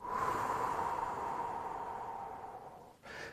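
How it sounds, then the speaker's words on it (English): A long, steady breath pushed slowly out through pursed lips as if through a straw, during a pelvic pain recovery breathing exercise; one continuous airy exhale lasting about three seconds, close and fairly soft, fading before a brief new breath. "as you breathe out, you're going to breathe out as if breathing out through a straw"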